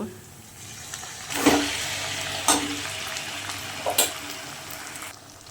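Chicken pieces drop into a pan of fried onions, sending up a few loud sizzling bursts over a continuous close frying hiss.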